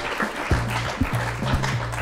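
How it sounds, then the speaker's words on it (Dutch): Live podcast audience in Leersum applauding, brisk clapping at moderate level over a short stretch, with a voice speaking through it. "Nog een keer groot applaus voor jou."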